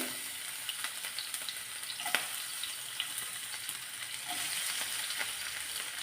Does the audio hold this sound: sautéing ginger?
yes